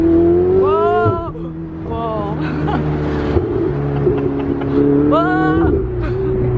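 Supercar engine on the Pacific Coast Highway revving up in tones that climb and drop with gear changes, loud and close with a steady engine drone underneath.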